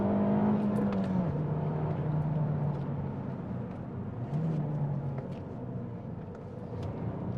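A modified 2011 Alfa Romeo Giulietta on all-season tyres, styled as a Quadrifoglio Verde hot hatch, revs hard toward its redline of just over 6,000 rpm. The engine note is steady and droning and climbs in pitch, heard from inside the car.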